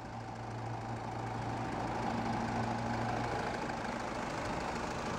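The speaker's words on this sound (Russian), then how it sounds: "Не громкий дизель на самом деле." A 2013 Hyundai Santa Fe's 16-valve diesel engine idling with the hood open, a steady low rumble with a faint hum running evenly throughout, no voices.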